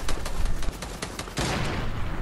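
Rapid bursts of gunfire in a Fortnite battle, a string of quick sharp shots followed by a denser, sustained volley, close and loud throughout.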